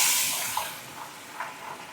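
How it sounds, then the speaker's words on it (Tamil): Fish frying in bubbling hot oil gives off a steady, loud hiss with faint crackles and a few soft pops, with no voices over it. "மீனை பொரிக்கிறேன்"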